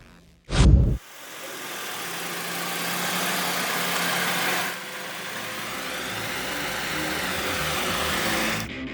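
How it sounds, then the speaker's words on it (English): Original Honda Fit GK5 engine driving on a mountain track: a brief thump at the start, then a steady, continuous mid-pitched engine drone that holds and shifts slightly in tone, with no talking. "Let's take a look at how well can an original Honda Fit perform on this section of the mountain track."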